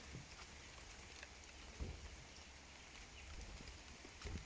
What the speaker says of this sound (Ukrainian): а в пів сьому ранку пішов дощик